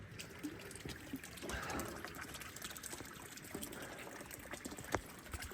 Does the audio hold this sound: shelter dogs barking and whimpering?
no